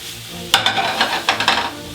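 Sauce sizzles in a hot pan while a utensil stirs and turns it, a burst of frying crackle with several quick scraping strokes in close succession, near and loud.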